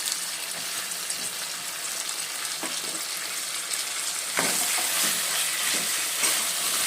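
Tomato pieces cook in a pan for a meatless dalcha, producing a continuous hissing sizzle with occasional stirring knocks; the sizzle grows louder partway through.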